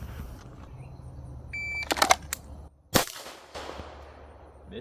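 Pistol shots during a draw-to-headshot shooting drill, heard as a few sharp cracks, a quick pair followed by a single louder report about a second later, alone over faint outdoor background.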